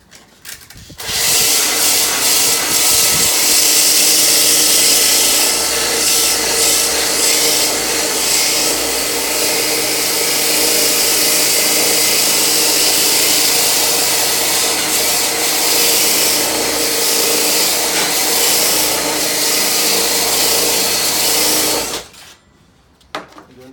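A turned wooden baluster is sanded with 80 grit sandpaper, a steady loud rushing rasp that holds continuously for about twenty seconds before stopping abruptly, close up with no speech.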